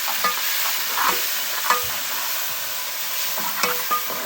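Masala sizzles and fries in a pan for stuffed karela (bitter gourd), with onion, tomato and green chilli, under a steady crackling hiss broken by occasional scrapes and stirs of a spoon, and no talk.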